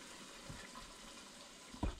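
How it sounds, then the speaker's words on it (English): Water rinsing oil and hydrogen peroxide out of an ear, a soft steady trickle with a brief louder splash near the end. "We're just rinsing out the oil and the hydrogen peroxide."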